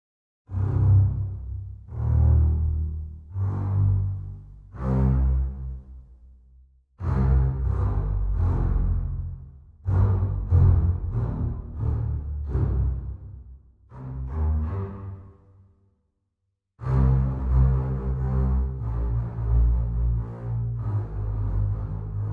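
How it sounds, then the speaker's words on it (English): Deep, resonant bowed orchestral string basses play in phrases, with pauses between, rich low body and some bow texture, close-miked and full. "Now let's listen to the basses."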